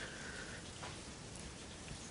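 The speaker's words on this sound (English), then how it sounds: "It's been raining" Rain falls steadily through the night outside a home during a thunderstorm, a dense even hiss of drops with no other clear sounds.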